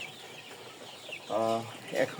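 Kalabat meat chickens about 35 days old, part of a flock of a thousand on a farm, give a short burst of clucking and harmonic calls near the end after a quiet, faintly noisy stretch.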